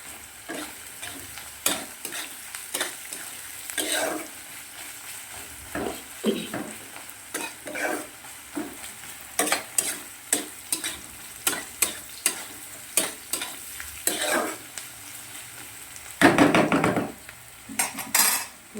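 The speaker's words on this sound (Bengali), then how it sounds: "পেঁয়াজটা আমি একটু বেশ লাল লাল করে ভেজে নেব" Onions frying in a pan until reddish brown, with a constant soft sizzle beneath repeated sharp clinks and scrapes of a spoon stirring against the pan, close and fairly loud.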